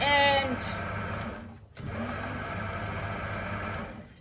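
Sewing machine running an ordinary stitch on a cushion cover, a steady whirring hum in two bursts with a brief pause between, and a voice speaking over the start.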